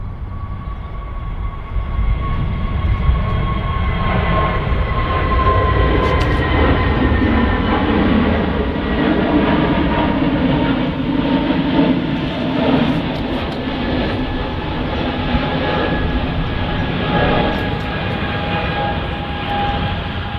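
Jet aircraft departing Manchester Airport on a windy day, a deep rumbling roar with whining engine tones that rises and sweeps in pitch as it passes, heavy and sustained throughout, with no talking.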